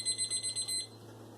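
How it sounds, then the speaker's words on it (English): A kitchen timer goes off while macaroni cooks, a fast run of about six high electronic beeps that then stops, quiet and close against a faint background hum. "the buzzer's going off."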